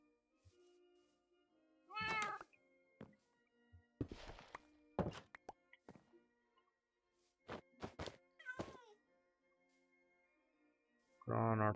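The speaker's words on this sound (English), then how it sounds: "Come here, cat." A cat in the Minecraft GregTech New Horizons modpack meows several times in short separate calls, mixed with thudding footsteps and knocks, fairly close and otherwise quiet between sounds.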